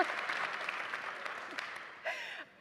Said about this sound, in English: now we just need a round of applause for Kitty as well.